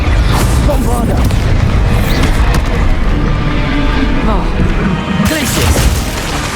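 Bombarda spell blasts in the Hogwarts Legacy video game, loud booming explosions layered with crackling debris and dense battle noise, a steady roar of combat throughout with a sharp burst near the end.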